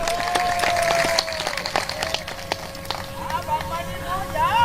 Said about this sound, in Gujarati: આ વધાવવાનું તાળીઓથી વધાવો